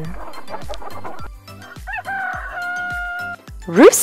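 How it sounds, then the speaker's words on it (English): A rooster crows a full cock-a-doodle-doo, loud and near, with clucking hens around it and a short squawk at the end. "Rooster."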